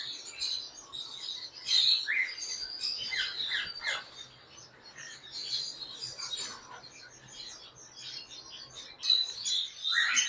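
Tame exotic birds at a breeder's shop chirp and call in short, bright bursts, moderately near, while a white-neck breeder female is shown, with faint background murmur between the calls.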